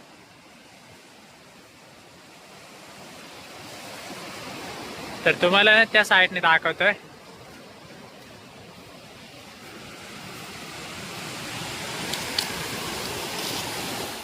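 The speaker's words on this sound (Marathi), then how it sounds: "इतकं जबरदस्त पाणी वाहत आहे ना या साईडचं" Heavy rushing water roars steadily below a dam throughout, with someone speaking briefly over it midway.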